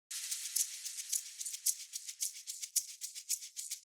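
Three layered shaker loops, one panned center and one each to the left and right, make a steady, bright, hissing rhythm of rapid rattles with regular accents. The sound is soft and even, with no voices.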